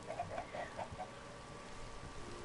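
Chickens in the video game Minecraft give a few faint, quick clucks in a short burst, then go quiet beneath a low background hiss.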